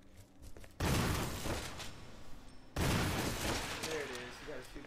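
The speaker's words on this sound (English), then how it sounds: "We're going to have to use a shotgun." Two heavy shotgun blasts in the Resident Evil survival horror game, each a sudden loud broadband boom with a long noisy tail, about two seconds apart, with game music and effects around them.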